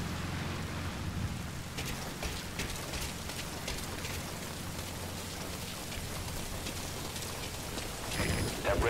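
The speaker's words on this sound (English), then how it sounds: "That rain just won't let up." Steady rain pours down in a video game scene, a dense hiss of drops with low rumbling underneath, continuous and fairly loud throughout, swelling slightly near the end.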